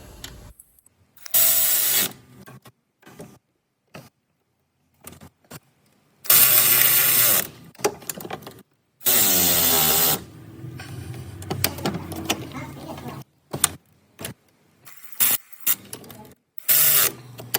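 Bursts of a powered ratchet or impact tool tightening water pump bolts on a 2003 Ford F150, several loud whirring runs of a second or two separated by pauses and small clicks.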